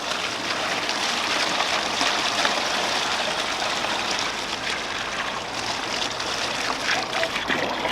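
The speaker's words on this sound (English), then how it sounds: "So I fill the wheelbarrow with pond water from the koi pond." Koi pond water pouring into a wheelbarrow outdoors, a steady close splashing rush that holds at an even level throughout with no pauses.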